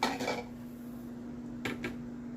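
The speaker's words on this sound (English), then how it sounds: "I'm just cleaning with my spatula" A spatula scrapes and clinks against a cooking pan in a short burst up close, with a steady hum in the background and a couple of brief metallic knocks.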